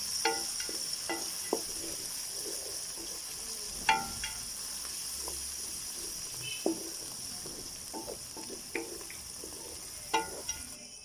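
A spoonful of ginger paste fries in a pan for samosa filling, giving a faint, steady sizzle broken by scattered clicks and scrapes of stirring, with no talking.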